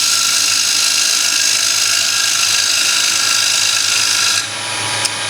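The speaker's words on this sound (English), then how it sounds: "we're just going to do a finishing cut with the bevel rubbing" Wood lathe finishing cut on a bowl with the tool bevel rubbing along the face: a steady, loud broadband hiss of the gouge shearing spinning wood, continuous for several seconds before easing off near the end.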